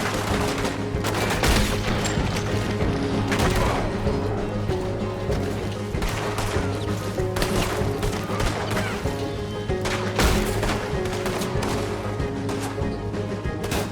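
Gunfire from a shootout in Red Dead Redemption 2 on PS4: dense, continuous volleys of close shots overlap and crack one after another for the whole stretch, loud and busy with no pause.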